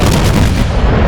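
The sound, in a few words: battleship main guns firing, video game (Alabama)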